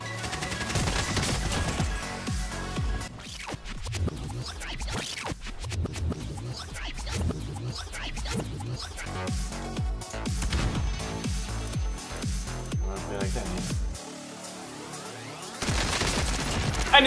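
A PPSh-41 submachine gun fires rapid bursts in Call of Duty Warzone, crackling fast and dense with short pauses between strings of shots, loud and close.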